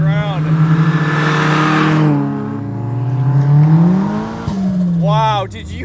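A 470 WHP big-turbo Mazda Miata running on E85 accelerates hard through the gears, engine note rising and dropping across shifts, loud and close.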